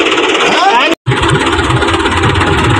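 A tractor engine runs steadily during wheat harvest threshing, a loud, dense drone with one brief cut-out near the start.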